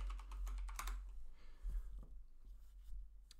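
Someone types a message to ChatGPT on a computer keyboard, a quick close burst of key clicks followed by a few sparser taps, fairly quiet over a low hum, with no voices.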